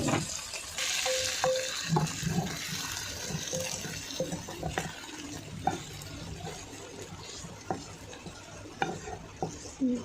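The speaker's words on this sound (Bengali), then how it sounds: "এবার আমি ওদের ঢেলে দিচ্ছি।" Freshly fried chanachur snack tips out of a hot pan, making a continuous close rustling, sizzling pour with scattered light clinks and patters throughout.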